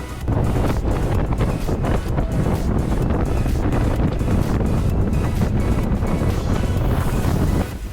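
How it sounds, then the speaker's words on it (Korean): Loud, steady roar of wind buffeting the microphone while cycling in a Yeosu gran fondo race, a dense continuous rumble with gusty fluctuations throughout and no voices. "한번 실제로 바람 소리 한번 들어보시죠."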